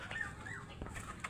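Pigeons kept by a backyard breeder, newly arrived birds including Busy, Lubina, Tiger and Brownie, give soft coos and clucking calls close by, with a few brief rising notes over a steady murmur of other birds.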